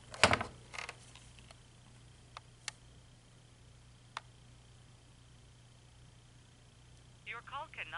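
A vintage General Electric 2-9175A twelve-memory telephone clatters as the handset is handled, then sparse button clicks and ticks follow, with a faint automated voice or tone near the end and no talk over most of it.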